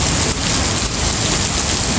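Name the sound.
heavy rain pouring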